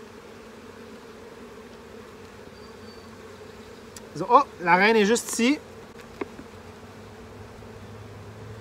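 Honeybees buzz loudly in a short, dense burst at an open hive during an inspection, swelling for about a second and a half over a quiet background hum, with a person speaking briefly nearby.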